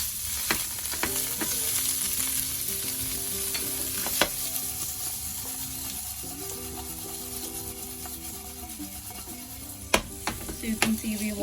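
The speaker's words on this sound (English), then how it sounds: "Now we are going to transfer everything into this and just cook it for a minute so that we get a good crust on the paneer" Paneer cubes frying in a pan to build a crust, with a continuous close sizzle and repeated stirring and scraping of a utensil, plus occasional sharp clinks against the pan.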